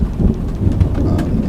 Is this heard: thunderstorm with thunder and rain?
yes